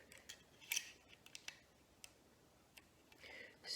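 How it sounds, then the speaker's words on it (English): Sharp snips of cutters trimming the end of tin-can material while building a small automaton, a few quiet crisp clicks scattered through a faint, otherwise still background. "So I'm going to snip this off"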